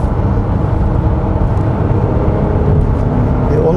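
A 2017 Range Rover Velar P380 mid-size luxury SUV with a 3.0 supercharged petrol engine cornering at speed, a loud steady in-cabin rumble of engine and road noise with a faint whir, no talk.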